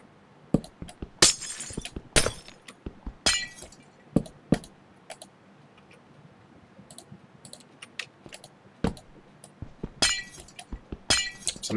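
Glass blocks shatter in a building video game, with sharp clinking breaks arriving in irregular bursts, some rapid clusters and brief pauses, fairly close and with no talking.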